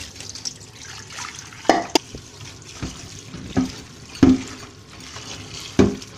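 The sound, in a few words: washing bitter gourds in water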